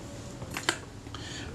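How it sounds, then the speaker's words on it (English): An Agfa Karat 36 camera shutter fires once, a single sharp mechanical click near the middle, with faint handling ticks around it in a quiet room. "I'm just checking the action of this shutter."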